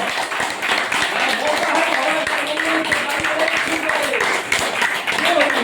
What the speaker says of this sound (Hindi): तो एक बार और ताली अपनी सेहत के नाम पे हर कोई बजाए।